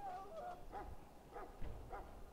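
A dog in the Dragon Age Origins video game whimpers in a string of four or five short, faint whines over a low rumble.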